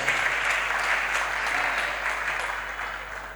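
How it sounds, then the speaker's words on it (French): A church congregation claps together in steady, continuous applause, loud and close, filling the room without a break. "Clap for the Lord, clap for the Lord, clap for the Lord."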